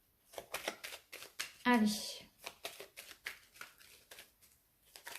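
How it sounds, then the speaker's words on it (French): Tarot cards are shuffled by hand in a quick run of soft, rhythmic riffling bursts close by, with a short spoken word in the middle. "je vous laisse choisir pendant que je mélange les cartes"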